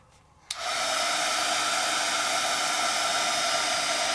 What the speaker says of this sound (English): as it dries, if you want, you can take a heat tool to it